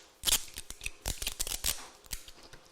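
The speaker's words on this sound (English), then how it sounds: "And if I can peel this tape off," Strip of adhesive tape peeled off during papercraft die setup, heard as a few sharp ripping bursts up close, then softer crackles tapering off, with no voice.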